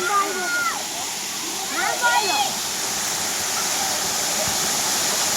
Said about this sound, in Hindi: ये आसिगनु वाटरफॉल देख केते सुंदर लगुच